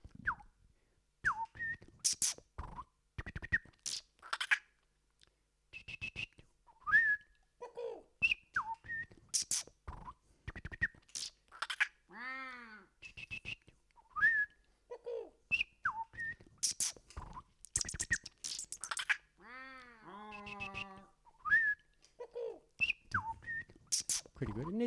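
A performer whistles birdsong imitations at a live-streamed gig, layering chirps, trills and warbling phrases through a looper into a dense, repeating pattern; some rapid falling-and-rising calls stand out over the overlapping loops.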